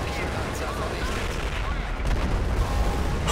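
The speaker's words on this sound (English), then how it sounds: "the fucking explosions are going insane" Explosions and gunfire from a Company of Heroes World War II battle in the Netherlands, with Tiger tanks and Shermans in action: a dense, continuous roar of blasts and shots that swells louder toward the end.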